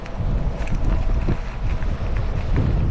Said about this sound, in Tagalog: mahangin kasi dito eh